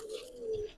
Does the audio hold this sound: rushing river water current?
no